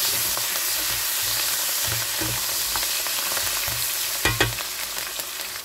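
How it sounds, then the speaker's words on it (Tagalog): Carrots sizzle steadily in a hot pan for a red mullet fish and vegetable dish, with a few louder stirring scrapes near the end and no talking. "ginisa natin yung ating carrot na mga 1 minute"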